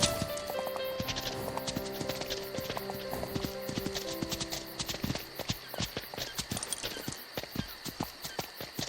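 Horse hooves clip-clop in a video game, a busy patter of overlapping hoofbeats from several horses moving at once, steady and moderately loud over nine seconds.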